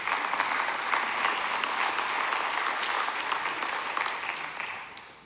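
A town meeting audience applauds steadily for about five seconds, a dense sustained patter of many hands that tapers slightly toward the end, with no speech over it.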